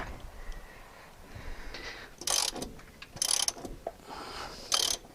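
A ratchet wrench clicks in several short bursts while tightening shock bolts on a Honda Pioneer 1000 side-by-side, close and fairly quiet with pauses between the rapid pawl clicks.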